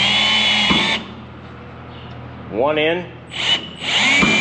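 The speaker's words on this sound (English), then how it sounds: "Got my trusty drill" A cordless power drill drives screws into snap-in clips, whirring loudly at the start and again near the end with a brief rising whine between, while someone speaks a few words.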